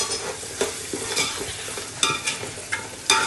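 Chopped coriander frying in a pan of crab curry, a steady close sizzle with repeated scraping stirs at an irregular rhythm, no voices.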